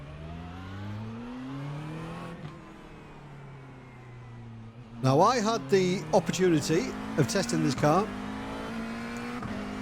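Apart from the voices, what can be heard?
McLaren 720S GT3 engine revving in iRacing video game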